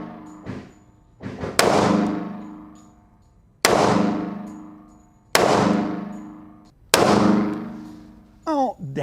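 A Ronin 1911 pistol with a smooth trigger job fires four loud, separated shots, each with a sharp crack and a ringing decay outdoors; a voice speaks briefly between shots.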